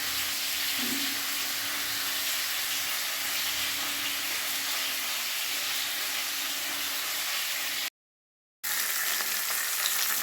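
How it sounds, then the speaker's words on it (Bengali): Fish fries in hot oil with a steady, dense crackling sizzle that holds at a constant level, close and alone, broken by a brief silent gap near the end. "এবারে ওই তেলেই মাছগুলো ভেজে নিচ্ছি"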